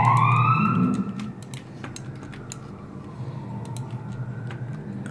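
An emergency vehicle siren under test gives a brief rising wail that cuts off after about a second, leaving faint clicks and taps over a low background hum.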